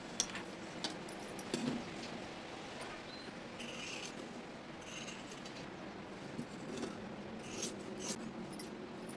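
Scissors cutting blouse fabric, giving quiet intermittent snips and soft rubbing of cloth across about nine seconds, close but faint, with no voices.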